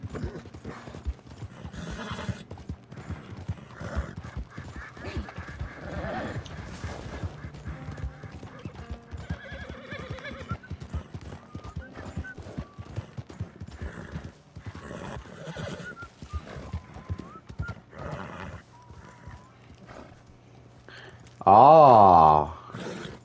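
Arabian horse in the Red Dead Redemption 2 game, steady rhythmic clip-clop of hooves throughout with a loud, close whinnying neigh near the end.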